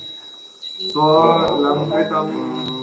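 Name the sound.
bell being rung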